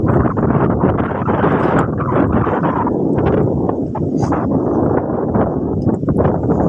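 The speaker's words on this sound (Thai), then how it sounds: "เสียงลมแรงครับ ลมแรงมากเลย" Strong wind roars continuously and loudly across the microphone at a beach, a steady buffeting rush with gusty surges throughout and no voices.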